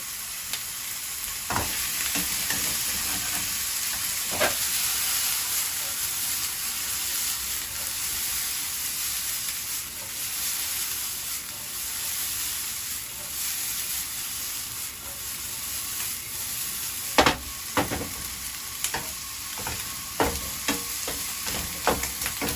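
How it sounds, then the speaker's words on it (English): Shrimp fry in a pan for Chinese fried rice, producing a steady hissing sizzle with scattered utensil clicks and taps, louder near the end. "we can put some shrimp on it. And cook it for 20 seconds"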